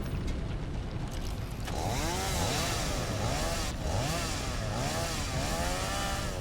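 A chainsaw cuts in the video game Satisfactory, its motor droning steadily and then wavering in repeated revving surges as the blade works, loud and continuous with no voices.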